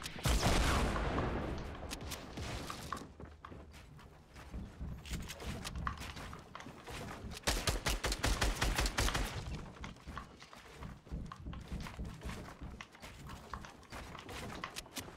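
Gunfire in the Fortnite Battle Royale video game, with dense rapid bursts of shots and clattering impacts running almost continuously and loudly throughout.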